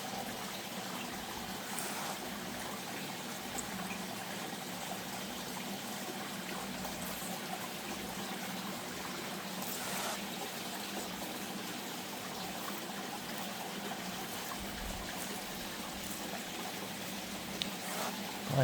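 Creek water trickles and flows steadily outdoors, a continuous soft wash that holds at an even level with slight surges, no one talking over it.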